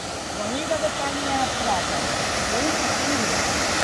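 Kendai Waterfall in Korba, India roars in a constant broadband rush close by, while a voice talks faintly underneath the steady roar.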